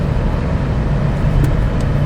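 A 2021 Toyota Highlander XSE engine drones steadily while driving, a continuous low rumble with road noise heard from inside the cabin, alone with no talk.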